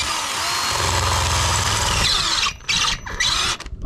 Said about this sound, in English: I had to put the drill bit in the chuck far enough in so I'd get a small enough drill bit